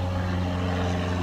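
A propeller airplane passes overhead outdoors near retail stores, a steady low droning hum with a strong tonal engine drone held evenly throughout.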